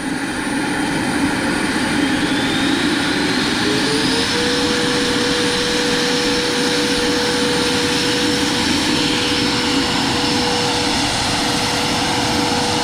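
Electric ducted fan of an RC MD 600N helicopter whines loudly and steadily in flight, its tone sliding down and then holding level over a broad rushing roar.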